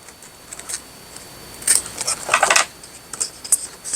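Scissors snip through paper in a run of crisp, close cuts, sparse at first and then faster and louder, each snip a sharp metallic slice with light rustling of the sheet between strokes.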